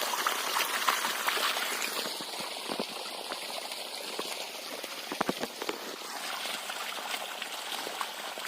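Water pouring steadily from the outlet of a 3-inch 60V 600W solar BLDC pump used for farm irrigation, a continuous rushing splash with brief drips and knocks, no talk.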